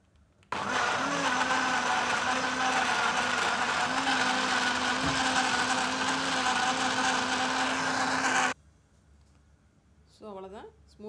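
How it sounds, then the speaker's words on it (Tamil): An electric mixer blender whirs loudly and steadily as it blends apple and banana into a smoothie, running about eight seconds before cutting off abruptly, after which a voice briefly speaks. "இப்போ வந்து எல்லாத்தையும் சேர்த்து மிக்சியில் அடிக்கலாம்."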